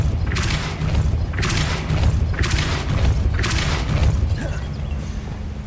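Repulso spell cast repeatedly in the Hogwarts Legacy video game: four forceful, booming whoosh bursts land about a second apart over a steady low rumble, loud and close, with no talking.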